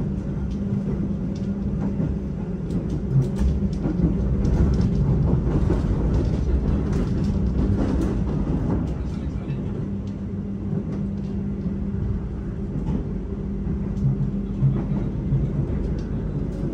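Steady rumble and rhythmic rolling of the Pangandaran passenger train on its rails, heard from inside a carriage, loud and continuous throughout with no talking.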